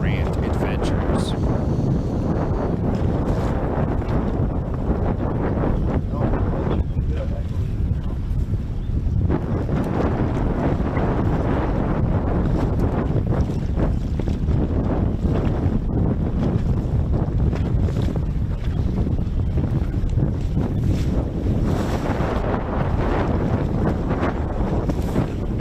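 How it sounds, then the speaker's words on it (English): Heavy gusts buffet the microphone aboard a bass fishing boat, a constant loud rumbling roar with surging swells and faint water slap, lasting the whole stretch. "Man, that wind's really whipping."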